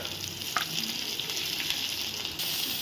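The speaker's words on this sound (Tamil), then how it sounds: "இப்போ நம்ம வெங்காயத்தையும் தக்காளியையும் இதுல வதக்க போறோம்" Whole onions and tomatoes fry in a generous amount of oil for a Tamil mutton kulambu, giving a continuous close hiss with a brief clink and small shifts as the pan is stirred.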